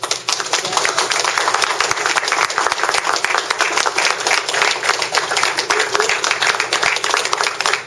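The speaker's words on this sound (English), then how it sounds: "Could you give Ponderosa a round of applause, please?" Audience applause at a Veterans Day dinner at Ponderosa, a dense, steady round of clapping that holds loud and even for the whole stretch before trailing off at the end.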